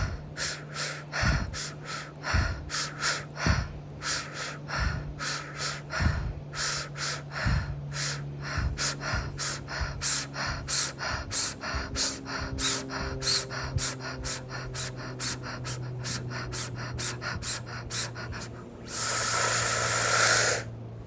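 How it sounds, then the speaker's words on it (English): Deep three-part yogic breathing drawn in through the diaphragm, a long run of close, rhythmic breaths with steady hissing airflow in and out, ending in a longer, louder exhale, with no talk. "taking some 3-part breath, inhaling through your diaphragm"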